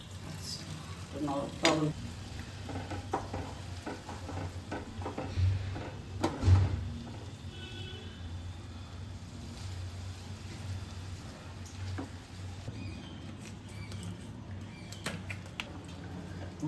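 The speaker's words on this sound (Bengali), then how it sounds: "গরম তেলের মধ্যে কি কি গেল? পাঁচফোড়ন যাচ্ছে, গেল, শুকনো লঙ্কা যাবে" Panch phoron spices and dried red chillies drop into hot oil for a Bengali jaggery mango pickle, giving a soft, steady sizzle with a few louder crackles and clinks of stirring, under occasional talk.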